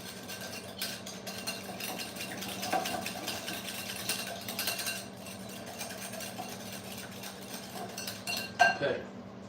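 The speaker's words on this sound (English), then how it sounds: "Let's whisk." Butter and egg yolks whisked in a bowl, a rapid, steady metallic clicking and scraping held close for several seconds, ending in a louder clink.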